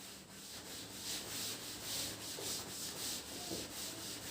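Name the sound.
rubbing to erase writing on a board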